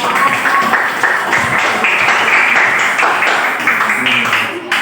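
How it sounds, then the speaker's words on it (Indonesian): A group of students in a classroom claps together in sustained, dense applause, mixed with voices talking and cheering. "tepuk tangan buat semuanya"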